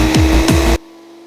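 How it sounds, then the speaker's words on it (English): Blasts from an air compressor blowing out a Singer Heavy Duty 4423 sewing machine come as two loud, short hissing bursts over a steady hum, then the air cuts off abruptly into a quiet hum. "my air compressor is quite loud"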